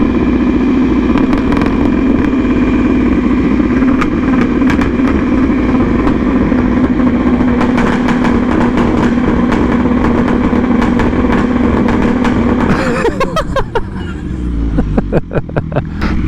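A motorcycle engine idles steadily and loudly up close for most of the clip, then sputters and quiets near the end.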